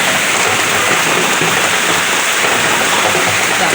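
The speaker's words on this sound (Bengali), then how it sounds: "আকাশ গ্রুম গ্রুমও করছে আর খালি বৃষ্টি পড়ছে দেখো" Heavy rain pouring down in a dense, unbroken roar during a thunderstorm, loud and constant from start to finish.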